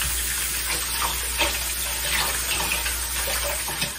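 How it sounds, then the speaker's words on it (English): Water runs steadily from a kitchen tap into a sink, a continuous close hiss and splash that holds for several seconds with no voices. "then I'm gonna pass it to my right to turn on the water."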